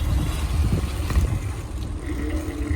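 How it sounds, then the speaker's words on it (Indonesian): Strong wind in a small Norwegian village buffets the microphone in heavy low gusts, rising and falling across the whole stretch with no talk. "Anginnya kenceng banget"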